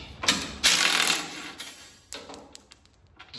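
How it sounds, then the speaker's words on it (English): A hand ratchet fitted with an 18 mm socket loosens bolts on a flail mower, giving close metallic clicking strokes, a dense burst first and then sparser, lighter clicks as the bolt frees up. "I'm using an 18 millimeter socket to take a couple bolts out of this thing."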